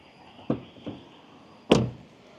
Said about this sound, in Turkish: ben kapı açılıp kapılma sessizlerine hastayım arkadaşlar